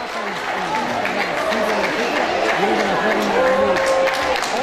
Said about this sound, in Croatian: Hvala za aplauz.